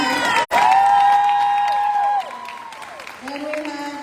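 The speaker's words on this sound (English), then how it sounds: "So a round of applause for Roslyn." Crowd applause and cheering for Roslyn at a high school athletic banquet in Port Isabel, a loud burst of clapping with whoops and shouts, then a short drop before it swells again near the end.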